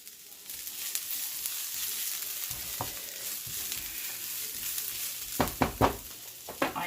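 Garlic hits browning onions in a pan and sizzles, a steady hissing fry with soft stirring scrapes and a few sharp clatters toward the end, fairly close and without talk.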